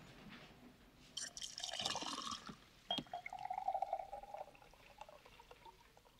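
Water splashes into a glass in an indoor film scene from The Shout, first as a brief gush, then as a sharp clink and a thinner, steady trickle before it fades to quiet.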